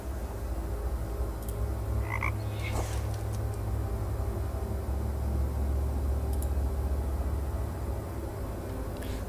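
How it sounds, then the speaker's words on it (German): Frogs croak in a steady chorus in the video game Raincliff, a dense low rhythmic drone persisting evenly beneath a few faint chirps and clicks. "Aber ich finde nur noch Frösche."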